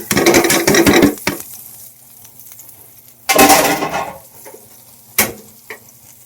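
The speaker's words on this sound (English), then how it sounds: "the first thing I'm going to put in when cooking the teriyaki is garlic and ginger" Garlic and ginger hitting a hot pan for teriyaki: loud bursts of sizzling in three separate waves, each fading quickly, with a metal utensil stirring and clinking against the pan between them.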